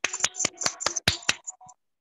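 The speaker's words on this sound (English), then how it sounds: "Clap for her." A handful of sharp claps during an online seventh-grade English class in Marathi as a student is congratulated; about seven crisp, close hand claps in an uneven rhythm, then quiet.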